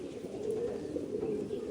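A pigeon with yellow eyes coos close by, a low rolling, steady call sounding alone.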